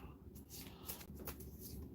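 A deck of playing cards, brand new and used for the first time, is shuffled at a tabletop D&D game, giving a soft, quiet riffle of papery flutters over about two seconds.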